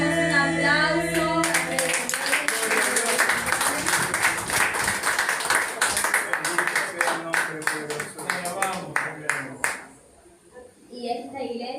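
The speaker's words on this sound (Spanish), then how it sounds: "Damos un aplauso." A church congregation claps in a steady run of sharp, loud hand claps that stop near the end, with voices and singing heard before and after.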